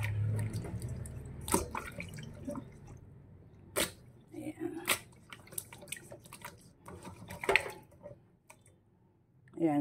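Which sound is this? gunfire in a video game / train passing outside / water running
water running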